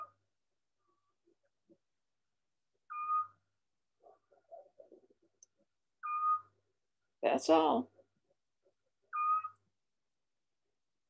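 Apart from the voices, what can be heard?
recorded call of a long-eared owl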